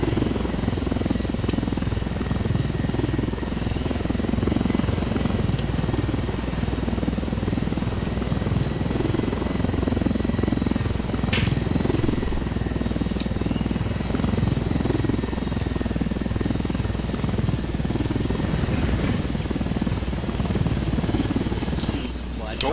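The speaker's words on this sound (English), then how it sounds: "A helicopter." A helicopter in the Ghost Recon Wildlands video game drones steadily with a loud rotor and engine roar throughout, while players talk over it.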